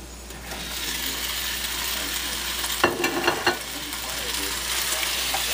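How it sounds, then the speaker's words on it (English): Beef hits a preheated cast iron Dutch oven and sizzles steadily and close, with a few sharp clatters of meat being dropped and scraped in partway through. "I've been preheating my Dutch oven over here. And we're gonna dump everything in there. Start with the meat here."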